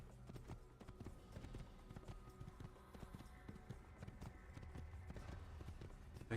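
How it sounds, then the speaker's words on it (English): Horse hooves clip-clop in the Assassin's Creed video game, a quick steady patter of hoofbeats at a run, faint under game music and ambience. "Using a horse like I'm supposed to."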